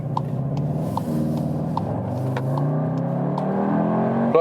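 A VW Tiguan R with 320 hp accelerates hard in race mode, its engine note rising steadily in pitch with brief shift breaks, loud and close from inside the cabin, without speech.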